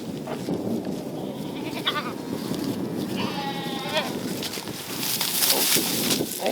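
Kiko goats on a homestead bleat in a few quavering, wavering calls at moderate distance over outdoor wind and rustling background noise.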